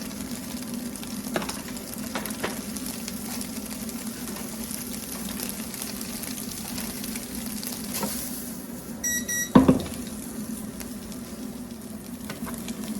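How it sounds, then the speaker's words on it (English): Gentle, continuous sizzling of mushrooms frying in oil in a pan, fairly even throughout, with a brief clink of a utensil near the end. "And start just gently frying these off."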